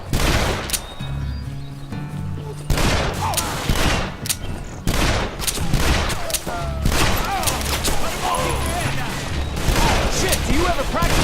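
Repeated gunfire fights in the shooter Call of Juarez: The Cartel: loud, close volleys of shots arrive in clusters with brief gaps, some heavy booms among them, and voices calling out between bursts.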